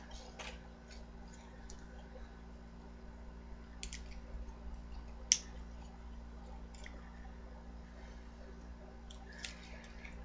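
Plastic parts of a Transformers Generations Blitzwing toy being folded and clicked into place, giving a few sparse, faint clicks and ticks over a steady low hum, with one sharper snap near the middle.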